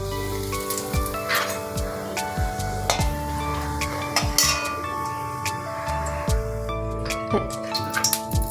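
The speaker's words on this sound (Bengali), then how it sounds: "তেল গরম হয়ে গেছে, এবার আমি তেজপাতা দিয়ে দিচ্ছি ফোড়নে।" Bay leaves hit hot oil in a pan for tempering, giving a steady close sizzle and crackle with scattered pops and drips throughout.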